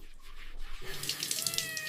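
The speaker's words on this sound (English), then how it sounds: "I wash the dishes." Tap water runs into a sink while dishes are washed, a faint low rush growing into a brighter splashing stream with light clinks, no talk.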